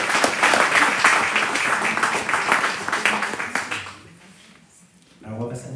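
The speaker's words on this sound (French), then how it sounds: "On peut l'applaudir également." Audience applause after a talk at a French public event: dense clapping for about four seconds, fading to quiet, then a voice begins speaking near the end.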